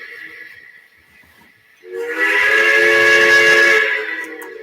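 A model train whistle blows one long, loud, steady harmonic blast lasting a couple of seconds, preceded by a quieter hum.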